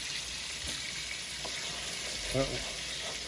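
Garlic sizzles in a pan over a steady, moderate frying hiss, with a few faint stirring clicks and one slightly louder scrape near the end.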